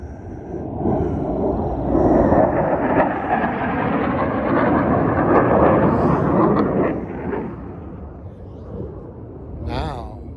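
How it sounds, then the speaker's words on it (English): A jet aircraft flies over Death Valley National Park, a broad roar that swells, holds for several seconds and fades, with brief talk near the end. "Oh, you know what? That was a jet."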